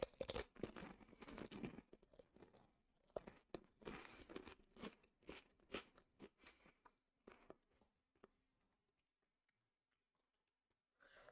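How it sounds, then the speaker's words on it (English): Snacks crunched and chewed straight from a bag, close and fairly quiet, with irregular bursts of biting and crinkling that thin out and fade to near silence toward the end. "Okay, okay, no more crunch."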